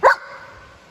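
A dog gives one sharp, loud bark on a speak command during training, followed by a brief faint whimpering tail and then quiet.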